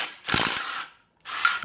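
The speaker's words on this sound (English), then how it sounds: "Now I'm gonna unbolt the pressure plate and all this stuff" A ratchet clicks rapidly and close by in two short bursts with a brief pause between them, unbolting the clutch pressure plate on a Mazda Miata.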